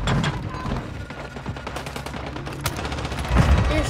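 Rapid, dense automatic gunfire from a custom-built gun in the mobile shooter Warzone Mobile, crackling steadily close up for the whole stretch and swelling louder near the end.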